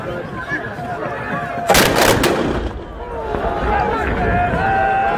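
Musket volleys and artillery booms at a Napoleonic battle reenactment, a short cluster of loud, sharp blasts over a steady outdoor crowd murmur, with voices talking in the background.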